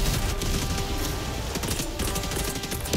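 Shotgun blasts from the Breaker in Helldivers 2 fire repeatedly amid a dense, continuous barrage of game gunfire and explosions during a squad mission against Automatons, loud and unbroken for the whole stretch.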